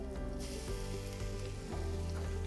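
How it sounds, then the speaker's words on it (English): Garlic and onion sizzle and crackle loudly in a hot frying pan for stuffed bell peppers, a steady close hiss with small pops and stirring clatter. "And we always like a nice sizzle in the pan."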